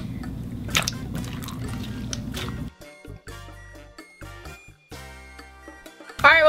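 Clear slime worked together with noodles by hand, giving wet squelches and sticky drips, dense at first and then broken into short separate squishes, with a tonal background running underneath.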